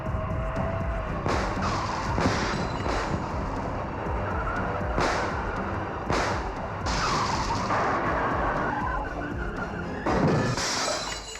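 A car crash with shattering glass and repeated heavy metallic impacts bursts out over roughly ten seconds, loud and chaotic, with no voices.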